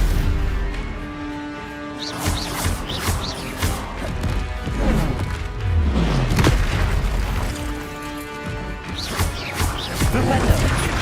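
The Stupefy spell cast in a video game: repeated heavy booms and crashing impacts over a busy, tonal game backdrop, loud and close throughout.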